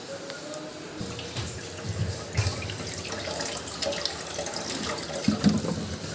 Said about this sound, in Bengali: ভালো করে ধুয়ে জলটা ঝরিয়ে নেব